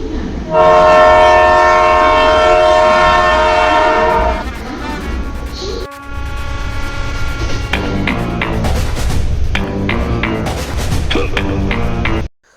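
A train passes close by on a rainy-season ride, starting with a long loud horn blast, then a roaring rumble of wagons with rhythmic clattering wheels over the rails, ending abruptly.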